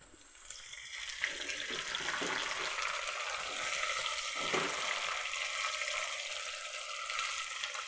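Dried prawns fry in a pan, giving a soft, steady sizzle that stays fairly quiet and even, with a couple of brief stirring scrapes and no voices.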